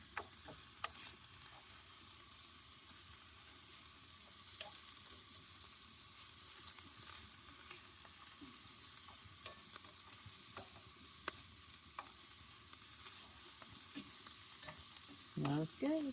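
Meat browning in a pan over a camp stove outdoors, a steady low sizzle with occasional soft scrapes and stirring clicks, moderately close and fairly quiet, with no talking.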